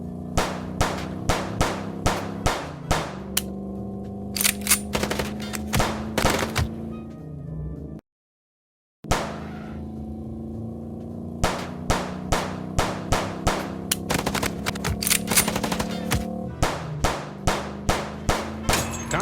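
Gunfire in the Chicken Police video game comes as a rapid series of loud, sharp metallic bangs and clangs over a steady background hum, broken by about a second of silence midway.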